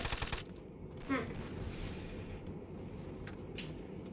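Gunfire crackles in the shooting game Free Fire, with a rapid burst at the start and scattered single shots after, set low under game noise.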